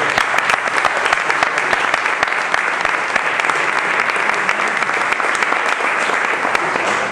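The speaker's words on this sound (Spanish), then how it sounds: "le demos un fuerte aplauso a La Plazoleta." Sustained applause from a conference audience, steady and dense clapping throughout, fairly loud and close.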